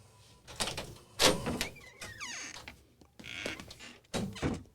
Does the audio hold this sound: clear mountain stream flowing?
no